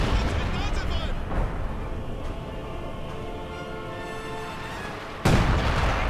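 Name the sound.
artillery barrage in Company of Heroes 2 video game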